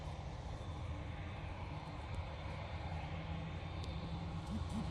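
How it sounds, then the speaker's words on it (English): Ryanair airliner departing Manchester Airport for Paris, a steady low engine roar that holds at an even level throughout without talk. "do have this Ryanair going off to Paris"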